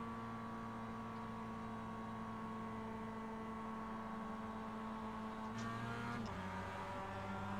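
A Mazda race car engine in the iRacing game at Road America drones steadily in a low gear, then shifts pitch briefly near the end. It is faint and continuous, with no talking.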